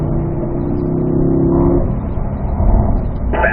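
Race car accelerating out of a corner on a road course, a close, loud engine note holding steady and then rising as it pulls away, alone without voices.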